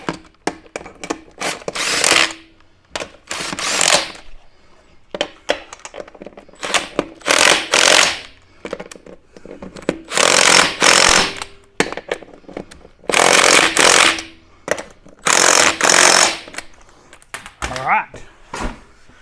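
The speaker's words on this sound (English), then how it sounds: "you might have seen me using this little impact driver" A small impact driver rattles in repeated loud bursts of a couple of seconds each, separated by short pauses, while working on a 2011 Yamaha Grizzly 700 ATV.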